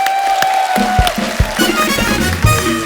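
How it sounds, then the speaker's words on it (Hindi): An audience claps for Kamal Haasan on a comedy talk show. The applause is loud, and music plays and a voice is heard over it. "एक बार जोरदार तालियां"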